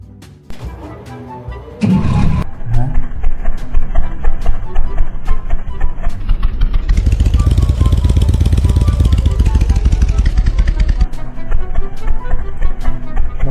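A motorcycle engine in the Roblox video game, a steady buzzing drone that revs up and swells loudly in the middle before settling, heard continuously for several seconds.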